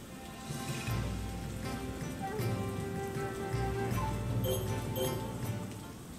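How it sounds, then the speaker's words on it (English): Steady rain pours down in the rice-farming video game Sakuna: Of Rice and Ruin, a continuous hiss with scattered drops and soft background game music, no talking. "we won't go full just because it is raining"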